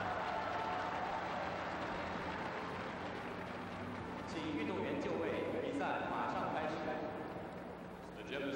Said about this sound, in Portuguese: a gente vê ali a reação da torcida para Fei Sheng